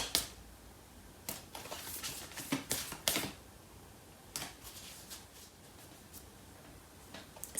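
A tarot card is pulled from the deck with a quiet series of crisp card flicks and slides, in scattered bursts.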